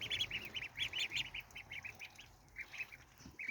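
Quick bursts of high, nasal duckling quacks come in clusters, close by and continuous, with brief pauses between flurries.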